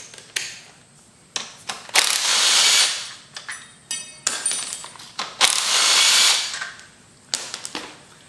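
A ratchet wrench works two 14 mm fork bolts loose from the triple tree of a Yamaha DT80 enduro motorcycle. Bursts of rapid metallic clicking come in two louder sustained runs, with shorter clicks and clanks in between.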